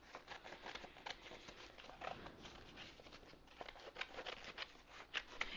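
Scissors snip through a piece of damask patterned paper in a quiet series of soft, close crisp cuts and rustles, with no talking.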